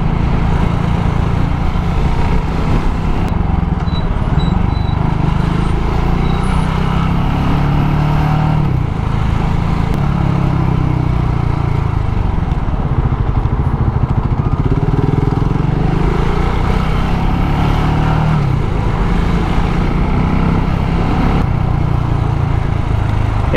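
A motorcycle rides through freeway traffic with a loud, steady engine drone and heavy wind rush that barely changes throughout, and the surrounding cars blend into the constant roar.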